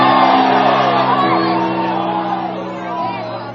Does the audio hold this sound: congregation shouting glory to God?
yes